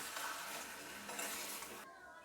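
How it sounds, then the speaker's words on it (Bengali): Chicken being stirred in a pan with salt, cumin powder, meat masala and chilli powder gives a steady scraping, sizzling rustle that cuts off just before the end. "জিরে গুঁড়ো, মিট মশলা, গুঁড়ো লঙ্কা করে নাড়িয়ে নিচ্ছে।"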